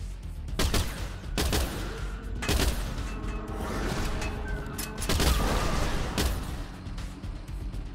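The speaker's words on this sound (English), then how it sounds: "Exploding. Definitely exploding." Chaotic shooter combat in the video game STRAFE: repeated loud gunfire bursts and booming explosions in quick succession, dense and continuous with no voices.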